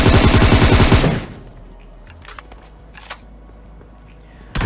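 Gunfire in the game PUBG, a rapid, loud burst of automatic shots lasting about a second, then near quiet with faint clicks and small game sounds.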